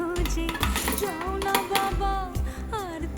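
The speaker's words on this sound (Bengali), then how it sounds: "এরপরে আমি ধুয়ে রাখা মসুর ডালটা এটাও দিয়ে দেবো।" Washed masoor dal lentils tipped into a cooking pot, a series of clinks and scrapes of utensil against metal with no talk.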